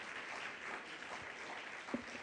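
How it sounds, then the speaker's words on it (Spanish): Faint, distant applause from a congregation in a church, soft and steady for a couple of seconds with a slight bump near the end. "Le damos un aplauso al Señor."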